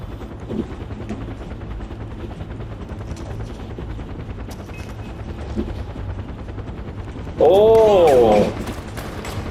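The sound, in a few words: helicopter and gunfire in video game Far Cry 4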